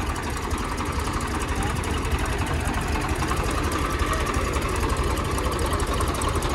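Several farm tractors, a Sonalika DI 750 among them, chug steadily under heavy load in a pulling test, a dense continuous engine drone with knocking texture, close and loud throughout.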